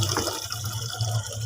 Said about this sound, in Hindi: यहाँ जी ऊपर मोटर लगाई हुई है, तो यहाँ पानी आता है पीने वाला,